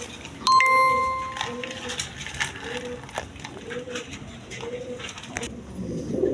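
A pair of Kashmiri Resar pigeons coo in repeated low phrases, with a loud burst and a ringing tone near the start and other birds chirping faintly in the background.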